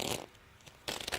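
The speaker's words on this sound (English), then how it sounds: "if I were to shuffle these cards" A deck of playing cards being shuffled at close range: two short, crisp riffling bursts separated by a brief pause, fairly quiet and with no voices.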